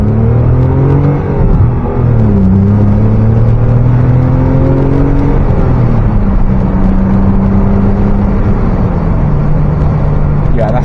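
A Rover 75 saloon with an engine of 2.5 litres or more revs freely while accelerating, heard from inside the car as a loud, rising engine drone that climbs in pitch, eases back, then climbs again as it gathers speed.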